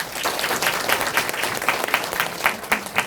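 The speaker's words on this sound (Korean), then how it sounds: "다시 한번 큰 박수 부탁드립니다" An audience applauds after a lecture, with dense, continuous clapping from many hands that stays loud and steady throughout and is heard close up.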